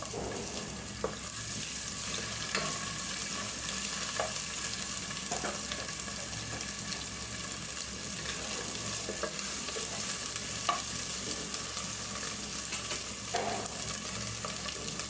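Ginger garlic paste frying in a pot for pulao, a steady sizzle with periodic stirring scrapes throughout, close and moderately loud with no talking.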